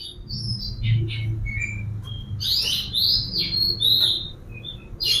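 An oriental magpie-robin (kacer) sings close by, sharp high whistles and chirps in quick varied phrases over a low background rumble.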